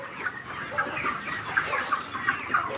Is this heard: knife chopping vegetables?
no